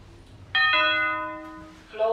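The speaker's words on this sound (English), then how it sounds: "Get ready for the bell." A lift arrival bell rings in a shopping centre lift, a clear chime that starts sharply and rings out for more than a second, with a second tone near the end over quiet ambient hum.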